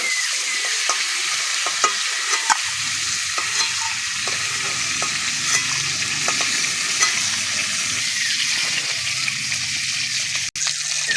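Boiled green jackfruit and potato fry in hot oil with a steady, close sizzle, broken by occasional sharp clicks and scrapes as the pieces are stirred in the pan.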